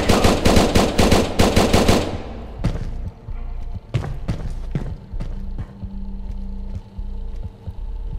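Gunfire in Next Day Survival comes as a rapid, loud automatic burst for about two seconds, followed by scattered single shots and thuds over a low hum.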